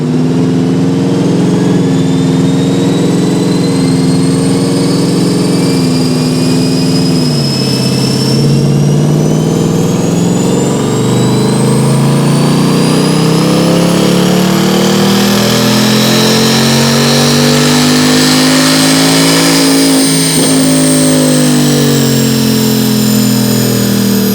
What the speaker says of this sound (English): It's a bone stock Mustang GT.